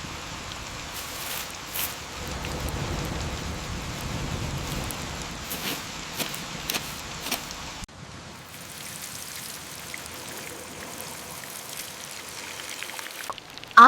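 Steady rain falls on a rainy day, a soft continuous patter with scattered louder drops, easing slightly partway through, with no talking.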